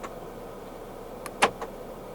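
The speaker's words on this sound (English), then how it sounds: "Electronic central locking." Central locking in a 2023 Chery Omoda 5 actuates in a car interior: a quick pair of clicks with one sharper mechanical clunk in the middle, short and close against a quiet background.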